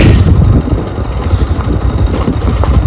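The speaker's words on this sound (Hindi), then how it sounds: "चढ़ी गई मेरी बाइक।" A motorbike engine labours up a rough hill road near Koldam, a loud steady drone with rumbling wind noise throughout and no talking.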